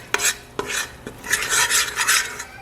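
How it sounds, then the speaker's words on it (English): A utensil scrapes and stirs in a pan where ingredients for Trini-style sweet mango chutney are frying, with a few sharp metallic knocks followed by a rough, sizzling rasp, loud and close, with no talking. "And you want to let this fry"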